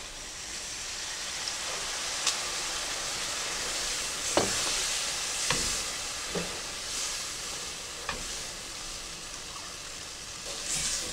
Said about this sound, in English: we're going to cook this for 1 minute while continually stirring